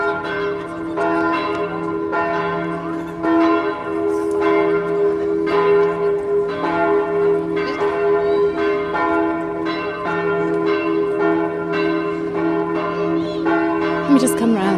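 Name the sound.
church bells ringing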